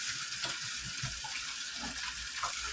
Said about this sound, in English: Pour out that water.